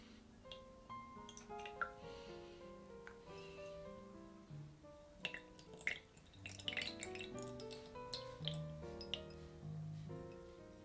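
A spoon stirs absinthe in a glass, producing soft irregular clinks and light taps against the glass with faint liquid movement, close and quiet, no speech.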